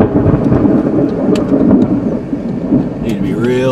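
Heavy, continuous rumbling thunder with steady rain during a tornado-producing thunderstorm in Oak Hill, loud and close, filling the whole span with a low roar and a rising tone near the end.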